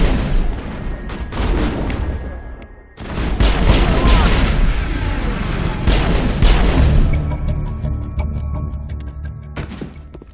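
A firefight in the Mass Effect video game brings loud, dense bursts of rapid gunfire and heavy booms. They come in close volleys with a short lull and then ease into scattered shots, with voices faintly mixed in.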